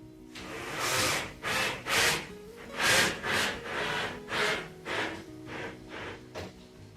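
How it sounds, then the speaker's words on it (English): A screw is driven into wooden cabinetry to fix a kitchen cooker in position, heard as a close series of about a dozen rhythmic grinding, rubbing turns with short pauses between them. "then I'll screw it into position"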